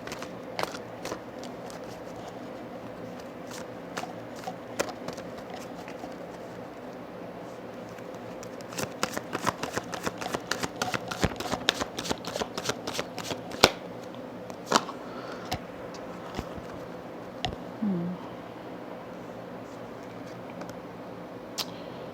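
A deck of tarot cards being shuffled close by in a quiet room, starting with soft scattered flicks and building into a dense run of rapid riffling clicks in the middle before easing off to occasional taps.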